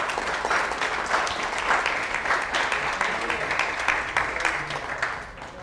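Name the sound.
audience applause for the board of trustees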